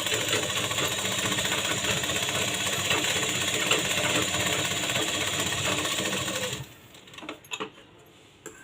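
Sewing machine stitching fabric for a baby's bunny-ear cap, running steadily and loudly for about six seconds, then stopping, followed by a few quieter handling clicks.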